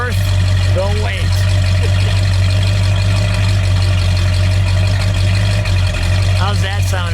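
A red 1970 Ford Torino with a 429 Cobra Jet Ram Air V8 and four-speed idles loud and close, a deep, steady low rumble running throughout while people talk over it now and then.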